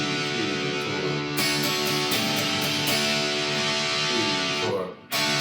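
Distorted electric guitar riff played through an amp, a dense sustained chord tone that thickens with stronger strums partway through, loud and close, then cut off abruptly near the end.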